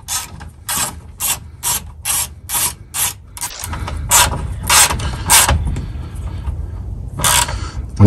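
Ratchet wrench snugging the fuel filter bolts on a Ford 6.7 Powerstroke diesel, a quick run of loud, close clicking strokes followed by slower rasping turns with scraping, no talk.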